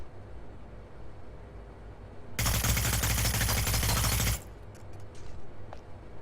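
Gunfire in Hitman: Blood Money, a loud sustained burst of automatic fire lasting about two seconds that cuts off abruptly, followed by a few faint scattered clicks.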